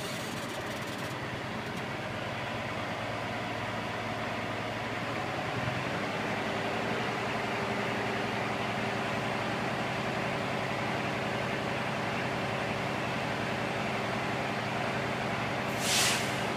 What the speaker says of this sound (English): I'm going to rev the engine up